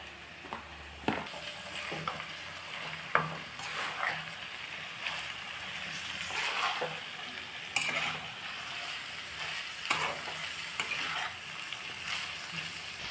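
Chicken pieces sizzling and spattering in hot cooking oil, a steady close crackle with sharp pops and occasional stirring scrapes throughout.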